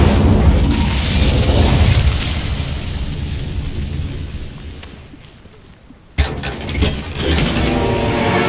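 A spell burst in Hogwarts Legacy on Xbox Series S unleashes a loud, roaring fiery rush that fades away, then cuts abruptly into a fresh sharp blast with crackling aftermath.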